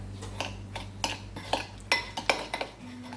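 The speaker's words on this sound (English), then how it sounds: "I'm gonna take 1/2 cup pumpkin and a 1/4 cup packed brown sugar, and I'm gonna mix the 2 of those together" Pumpkin purée and packed brown sugar are mixed in a bowl for pumpkin spice cinnamon rolls, giving a run of clear clinking, scraping utensil strokes against the bowl at a steady rhythm, close and moderately loud with no talking.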